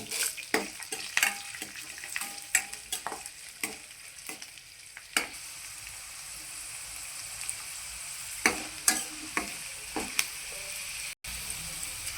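Garlic cloves and dried red chillies fry in tempering oil, giving a soft, steady sizzle beneath repeated sharp clacks and scrapes of a spoon against the pan, close and fairly quiet.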